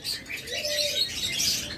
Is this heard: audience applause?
no